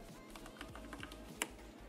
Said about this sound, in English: after that press enter from your keyboard